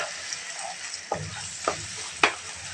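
Chunks of beef stirred and browned in a pot for a chickpea-lentil curry, with a steady close sizzle broken by three sharp scraping stirs that grow louder toward the end.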